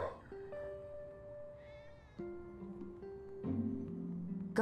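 Cats meow in Final Fantasy VII Remake, several drawn-out tonal cries overlapping at moderate volume over a soft game background.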